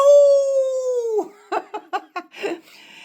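A human voice imitates a wolf's howl with one long, sustained note that slowly falls away, followed by a few short breathy bursts like giggles, close and loud.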